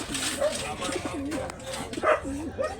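Pigeons coo in repeated soft, throaty warbles close by, with human voices talking in the background.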